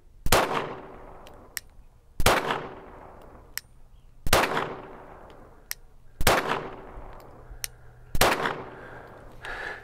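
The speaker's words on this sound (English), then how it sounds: "put a few rounds through it, see if I can get you some footage here, some view of the trigger working." Five pistol shots fired from a gun fitted with a Vickers Tactical flat-faced carry trigger, each a sharp close crack with a short ringing decay, spaced evenly about two seconds apart, with no voices.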